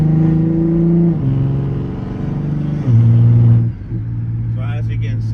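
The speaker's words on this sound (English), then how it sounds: "So this is me going half throttle while shifting to show you how it shifts." A Toyota A90 Supra with a Stage 2 transmission and billet converter accelerates at half throttle, engine tone climbing then dropping sharply at each quick gear change, two clear shifts heard close and loud from inside.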